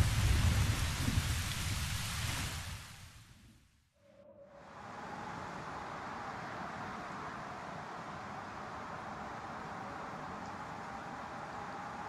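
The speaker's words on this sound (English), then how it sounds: "Into the stormy weather." Stormy weather in Tales of Berseria: heavy, loud rain hisses continuously, fades briefly into a near-silent gap, then returns as a steady downpour with a faint tonal ring in the mix.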